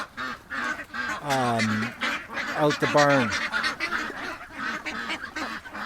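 Ducks outside a barn let out several loud, honking quacks in two close bursts, while someone talks over and around them.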